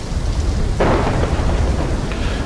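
Thunderstorm in the video game Call of Duty Black Ops 3: a loud rumbling crack of thunder breaks over a constant heavy roar of wind and rain, then fades back into the steady storm noise.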